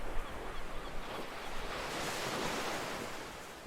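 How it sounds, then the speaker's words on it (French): Ocean waves breaking against sea cliffs on the Irish coast, a steady broadband roar of surf that swells and holds with no voices, fairly loud and continuous throughout. "Les vagues viennent s'échouer sur les falaises."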